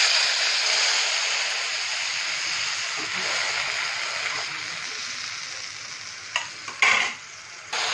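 Spice paste thinned with water, poured into a hot pan, bursts into a loud, dense sizzle and hiss that slowly eases, with a few splattering clatters near the end; no voices.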